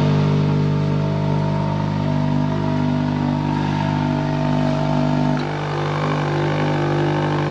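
A 2023 Kia Ceed GT with a 1.6 T-GDI turbo petrol engine and 7-speed DCT runs with a steady, loud engine drone close by, easing slightly toward the end.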